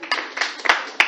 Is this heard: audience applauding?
yes